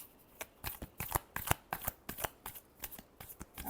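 Tarot cards shuffled by hand in a quiet room, a steady run of crisp riffling flicks and soft slaps repeating about every quarter second, close and moderately loud with no talking.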